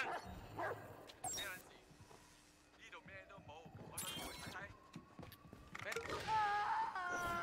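A dog barks and yips repeatedly in the Watch Dogs 2 video game, the sharp calls rising above game sounds while players talk over the action.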